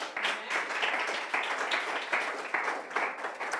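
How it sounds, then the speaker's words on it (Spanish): Congregation applause at a church service, a steady wash of many hands clapping with rhythmic surges, moderately distant and unaccompanied by talk. "vamos a dar un aplauso al Eterno"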